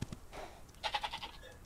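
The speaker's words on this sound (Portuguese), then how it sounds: "Ovelha!" Bleating of a sheep in a video game, heard as several short, fairly loud bleats in quick succession with a brief earlier call, standing alone without talk.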